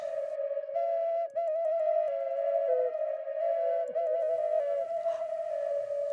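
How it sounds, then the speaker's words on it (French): A small green river dragon gives a thin, steady whistle. The tone holds almost unbroken for about six seconds with slight pitch dips along the way, fairly close and clear, with no one talking. "elles entendent comme un petit sifflement"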